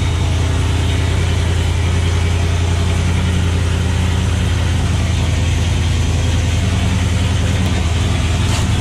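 A supercharged Ford Mustang GT idles after a cold start, holding a loud, steady, low rumble with a constant throb and no clear revving, close to the car.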